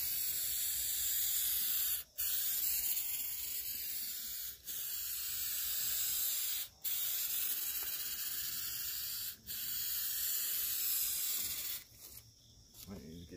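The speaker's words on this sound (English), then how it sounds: "once you start spraying, keep going, because it seems like it gumps up very fast." A Flex Seal spray can hisses continuously for long stretches onto a trailer, broken by a few brief pauses, loud and close, with a sputtering, uneven spray near the end as it gums up.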